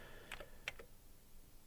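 A couple of faint, quick key presses sound on an Amiga computer keyboard while a command is typed in a quiet room.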